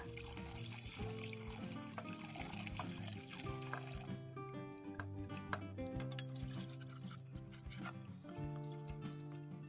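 Snakehead fish, rubbed with salt, being rinsed in clean water two or three times: faint trickling and splashing water with small drips, heard under steady background music.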